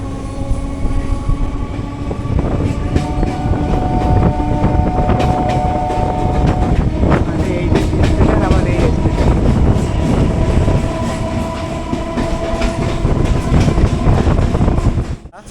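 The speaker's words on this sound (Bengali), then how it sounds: "বন্ধুরা লেক গার্ডেন থেকে ছেড়ে দিল তো পরের স্টেশন টালিগঞ্জ" A Kolkata local train on the Sealdah–Budge Budge line runs on from Lake Gardens toward Tollygunge, a loud continuous rumble with rattling carriages and clacking wheels that stays strong throughout, then cuts off abruptly.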